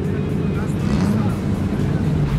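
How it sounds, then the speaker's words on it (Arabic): A modified, lowered car's engine rumbles loudly and continuously at close range, a deep steady drone that holds without break. "سيارات منخفضة في صوت محرك"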